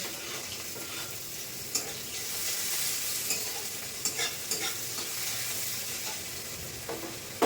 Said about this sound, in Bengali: ফোড়ন ভাজা হয়ে গেছে, এবার প্রথম পেঁয়াজ